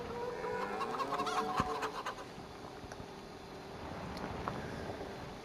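Chickens cluck and scratch in Farm Sim 25, soft overlapping clucks and warbling calls over a busy scratchy background, fairly faint and continuous with no talk.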